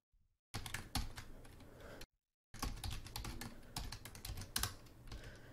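Typing code on a computer keyboard: two bursts of rapid, close key clicks with a short silent pause between them, no speech.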